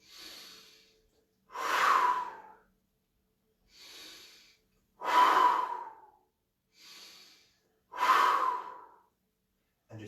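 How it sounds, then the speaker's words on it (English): Slow, steady nasal inhales alternate with louder, breathy mouth exhales in three full cycles, each breath lasting about a second, close and alone without speech. "just in through the nose and out through the mouth"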